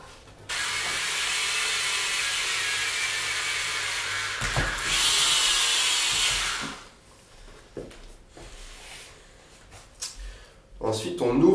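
A power drill bores a hole in a 20 mm tube, whirring steadily and loudly for about six seconds before stopping, followed by scattered handling knocks and clicks with some speech.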